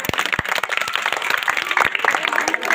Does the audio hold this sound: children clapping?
yes